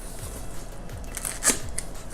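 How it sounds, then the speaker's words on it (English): An eyebrow cutter slicing open the cardboard box of a PIXEL 18-inch ring light kit, small close scraping and crackling cuts with a sharper snip near the middle, quiet and without talk. "I'm just gonna use my eyebrow cutter because I don't have scissors around"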